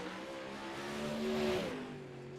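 A late model stock car engine roars steadily on a dirt or asphalt oval, revving up and easing off with a sustained mid-pitched drone, fairly close and loud, no talk over it.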